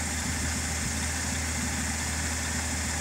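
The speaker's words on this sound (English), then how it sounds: "That's a pretty damn good running old truck." An old Ford truck, restarted after sitting for two years, idles with a steady, continuous engine rumble and vibration, close and loud with no talk.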